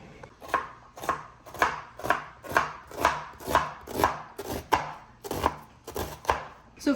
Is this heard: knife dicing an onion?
yes